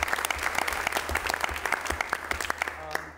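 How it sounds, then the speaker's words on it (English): A room of attendees at a school committee meeting claps for a staff member, steady moderately loud applause with individual claps audible, fading out near the end, with a faint murmur of voices. "So a round of applause for Leanne"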